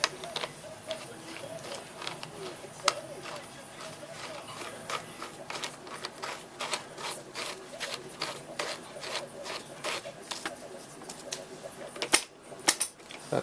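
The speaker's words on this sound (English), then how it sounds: "so now we tighten this until it pulls the crank off of the bike" Crank puller being tightened by hand to pull the crank off an eBike conversion build, a run of sharp ratcheting, scraping metal clicks at an uneven pace, fairly close and moderately loud, with no talking.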